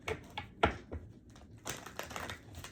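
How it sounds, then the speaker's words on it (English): Tarot cards shuffled by hand, a few crisp riffling and slapping bursts in an irregular rhythm, close and fairly quiet, with no talk over them. "Let me do 3 shuffles."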